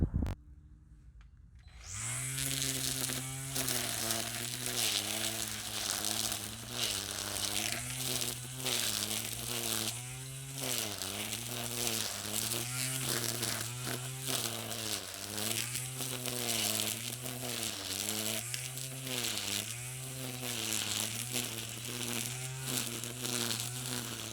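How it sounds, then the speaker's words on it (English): A Black & Decker 20V Max cordless string trimmer cuts grass, its steady high motor whine running throughout with repeated pitch dips as the line bites into the growth, loud and close with no talking. "we're going to cut these down with this trimmer and see how it does"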